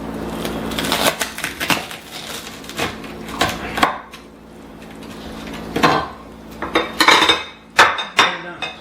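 A knife cuts through a toasted turkey pesto sandwich on a board, giving a series of sharp crunching and scraping strokes in uneven bursts with clattering contact sounds, close and fairly loud.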